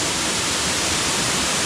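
Roar of a waterfall roughly 30 metres high on the Beli potok stream in the Belca valley under Kepa in the Karavanke, steady broadband rushing water, close and continuous with no talk.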